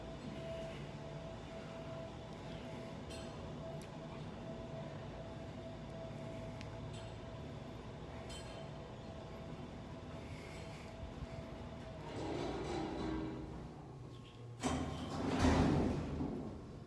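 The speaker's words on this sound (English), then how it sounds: "It's a basic freight elevator. It's a nice motor." An old Eastern/Montgomery traction freight elevator, a manual unit modernized in the 1990s, runs with a steady low mechanical drone. Near the end it gets louder with clunks and rumbling, likely doors or the car stopping.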